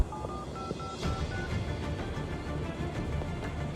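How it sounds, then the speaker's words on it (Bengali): A telephone number is dialed as a quick series of short tonal keypad beeps in the first second, followed by quieter indoor background noise. "আর বাসার নাম্বারে ফোন দিই"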